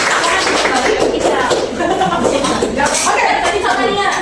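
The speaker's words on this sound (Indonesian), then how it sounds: "teman-teman kita berikan tepuk tangan sekali lagi buat" Classmates give a round of applause in a classroom, a steady patter of many hands at moderate loudness with murmuring voices and faint laughter mixed in.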